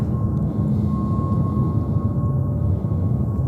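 Frontier airliner on the runway taking off at JFK airport in New York, a steady distant jet roar and rumble with a thin whine on top, heard alone without talk.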